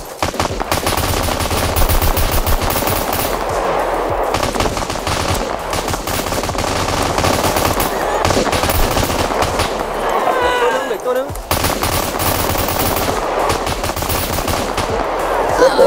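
Rapid pistol fire in the survival video game Scum during an in-server pistol war, with dense bursts of shots repeating throughout, loud and close, under tense talk from players.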